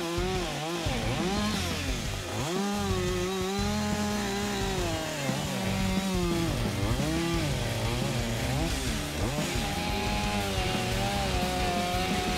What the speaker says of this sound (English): Not only does this 10cc 640 saw set accurately and evenly cut large logs